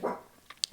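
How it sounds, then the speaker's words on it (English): A small pet dog barks indoors, one muffled bark followed by a few sharp short yips, close by and fairly loud, with no talking over it. "It's my little dog."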